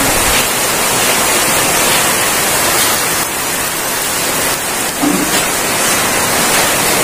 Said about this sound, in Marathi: खूप पाऊस पडतोय खूप